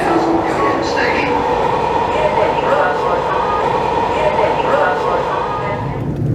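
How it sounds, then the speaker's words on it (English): A Metro Red Line subway train rumbles steadily from inside the car, a loud continuous roar of wheels and motors with faint squeals, while an onboard announcement voice speaks over it. "Welcome aboard the Metro Red Line. This train's final destination is Union Station."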